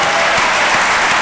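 Church congregation at a Christmas service applauding loudly, a dense wash of many hands clapping close and steady.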